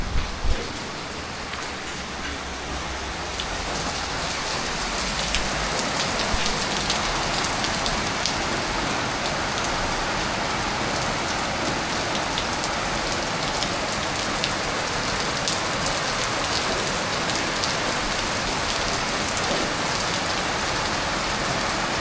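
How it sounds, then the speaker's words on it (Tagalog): Heavy rain pours steadily for the whole stretch, a dense, loud hiss of drops drumming on surfaces near a home kitchen in Nepal, with no voices over it. "Ang lakas ng ulan."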